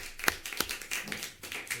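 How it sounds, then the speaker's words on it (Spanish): A few scattered handclaps ring out at a press conference, sharp isolated claps rather than a full round, with voices talking over them. "yo creo que un aplauso se merece, ¿no?"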